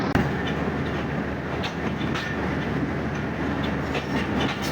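A loaded freight train rolls along rails near Mahmood Kot station in Pakistan. Steady, loud rumbling and rattling carries on throughout with faint rhythmic wheel clatter and no talk.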